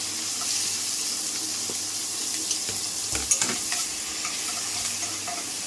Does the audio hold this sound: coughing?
no